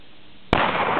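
A single sharp, loud gunshot cracks close by during speed shooting with heavy loads, ending a brief quiet stretch with a sudden burst and a lingering rumble.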